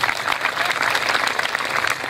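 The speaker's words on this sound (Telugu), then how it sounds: "చప్పట్లు కొట్టండి." An audience at a SriRama Katha religious discourse in Solapur claps together, producing a loud, close, dense burst of hand claps with a loosely rhythmic pulse, and no voices over it.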